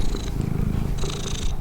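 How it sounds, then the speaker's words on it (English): Cat purring while being stroked, a close, loud, rhythmic rumbling purr with two slow breathing cycles over under two seconds. "slow rhythmic purring"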